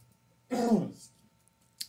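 A single throat clearing from a man on a morning radio show, close and fairly loud, lasting about half a second, followed by quiet with a faint click near the end.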